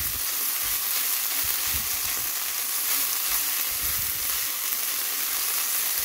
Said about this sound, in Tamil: லேசாக ஒருக்கா வதக்கி விட்டீங்களென்றாலே அது போதும்